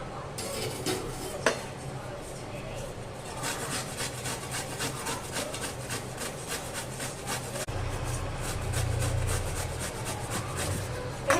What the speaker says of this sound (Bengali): এইভাবে আমি সমস্ত আম চিপারে ঘোষা নিচ্ছি